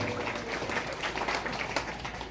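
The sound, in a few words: applause by students at Isra Mi'raj ceremony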